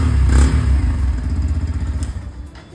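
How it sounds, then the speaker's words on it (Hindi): A 2024 Yamaha FZS V4.0 motorcycle engine revs close by, its exhaust rising in a strong burst and then settling into a pulsing, rhythmic throb with throttle flutters, with no talk. "अब करते हैं इसको थोड़ा सा रेव।"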